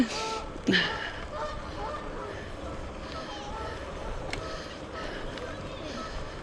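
Geese honk a few times at a distance along a canal over outdoor background noise, with a louder honk early on and fainter calls scattered after.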